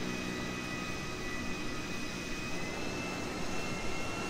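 Continuous roar of a jet plane's engines on takeoff in a GTA game, a steady broadband rush with a faint high whine, heard alone at a constant moderate level.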